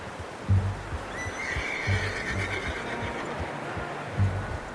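A horse in Red Dead Redemption 2 whinnies in a drawn-out, wavering neigh, with a few heavy low thuds like hooves spaced through the background.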